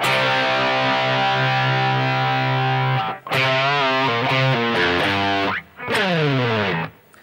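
Heavily distorted electric guitar playing a phrase that follows the vocal line: a long held chord, then rapid sliding bends and riffs in bursts with brief gaps, loud and close, no speech.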